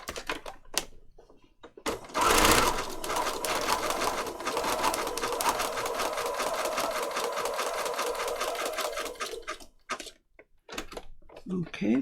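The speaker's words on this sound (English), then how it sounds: "I'm going to put it on zigzag, and I'm going to sew down this join here" Sewing machine running a zigzag stitch over paper patchwork tags: a sustained, close, rapid mechanical whirr with a few short starts and stops around it, and a faint voice in the background.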